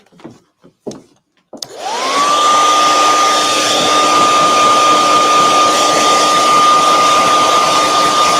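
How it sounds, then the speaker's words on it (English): A blow dryer runs loud and steady, close by, drying wet paint on a handmade Christmas decoration, starting abruptly after a few brief knocks and then holding a constant whirring roar to the end. "That little part right there is still wet, so I'm going to get my blow dryer."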